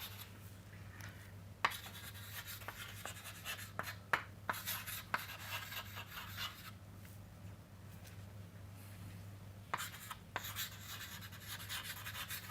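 Chalk or pen writing by hand during a lecture on input-queued switches, a run of scratchy strokes with sharp taps, over a steady low hum.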